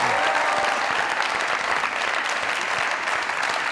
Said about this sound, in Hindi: जोरदार तरीन ताली